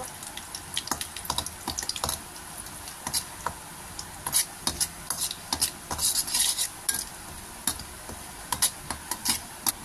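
Onions frying in a pan are stirred with quick, repeated scraping and clinking strokes over a steady sizzle, close by and without any talking.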